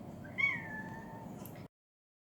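A small cat gives a single soft, sweet meow, close and quiet, trailing off before silence.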